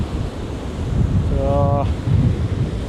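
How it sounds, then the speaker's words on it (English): Strong wind and rain batter a seashore at Runswick Bay, a steady loud roar of gusts and surf with rumbling buffeting against the microphone throughout, and a brief faint tonal whine partway through. "It's not stopped raining, windy as hell"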